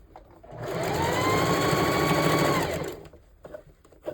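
Sewing machine stitching hair tracks onto a mesh dome cap in one steady run of about two seconds, close and loud, then stopping, followed by light handling sounds.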